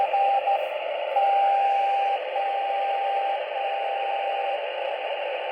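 Shortwave radio receiver audio with the beat frequency oscillator engaged and a narrow 300 Hz filter, giving a steady band of hiss with a faint continuous tone running through it, alone and fairly loud throughout.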